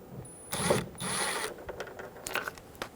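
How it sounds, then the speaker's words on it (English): Phillips head screws being backed out of the side mirror cover on a 2005-2015 Toyota Tacoma, a close, quiet mechanical ratcheting and clicking in short bursts with small taps after, no talking. "Remove both screws."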